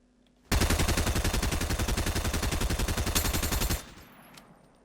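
A submachine gun in the Fortnite video game fires one loud, rapid burst of evenly spaced shots lasting about three seconds, then stops, leaving a faint tail.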